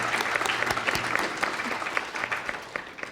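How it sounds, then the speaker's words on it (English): Applause from an audience at a university engineering showcase student panel, dense clapping with sharp individual claps standing out, steady for a few seconds and tapering slightly at the end. "Round of applause for our students for being out here with us on a Saturday morning."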